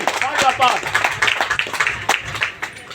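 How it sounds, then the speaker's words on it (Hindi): Scattered hand clapping from people at a party office gathering, a quick irregular patter of claps mixed with overlapping voices and chatter close by. "जोरदार ताली"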